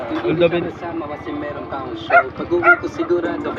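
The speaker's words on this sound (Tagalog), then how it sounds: "Mga wild dogs namin." Several dogs bark and yip in quick bursts close by on a boat at sea, mixed with people talking over them.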